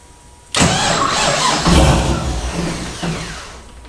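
A V8-swapped rear-wheel-drive Honda, a car, turns over on its starter, which bursts in abruptly and loudly, then grinds on as a steady mechanical whir that swells briefly and then fades slightly.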